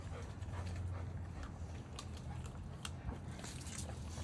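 Rottweilers eating their food, with steady chewing, crunching and lapping noises up close over continuous low rumble, a few sharper bites standing out.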